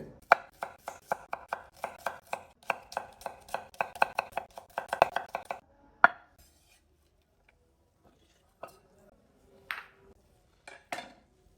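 Onions are chopped into thick pieces with a knife on a board, a fast run of sharp, close chops for about five seconds, then a few scattered knocks and clinks in near silence.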